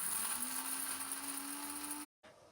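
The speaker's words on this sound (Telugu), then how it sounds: "ఆ టైంలో మనం మిక్సీ పెట్టేద్దాము" An electric mixie grinds roasted whole spices into a pepper masala powder, a steady close whine with a rising tone that cuts off abruptly, then briefly resumes.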